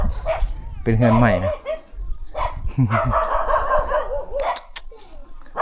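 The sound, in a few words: dogs barking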